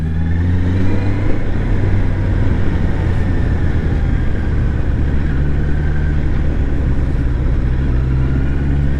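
A 2024 Honda CBR650R with E-Clutch rides through slow traffic, its engine giving a steady, close, loud hum with low droning tones and a faint rise in pitch, plus constant wind rush.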